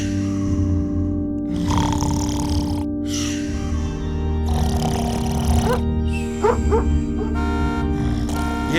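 A woman snores in bed, with repeated rough, rhythmic breathing bursts over a steady low hum, some bursts taking on honking, nasal tones.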